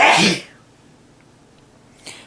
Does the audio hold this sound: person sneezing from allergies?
yes